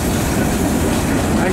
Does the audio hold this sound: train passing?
yes